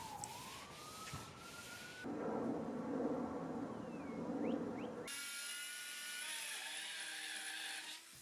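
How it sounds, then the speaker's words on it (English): A Dremel rotary bit carves holes for interior pot lights during a backyard studio build. It gives a continuous high whining buzz that shifts in pitch and texture across abrupt segments, fairly loud throughout. "take a Dremel bit and carve out the holes for the interior pot lights"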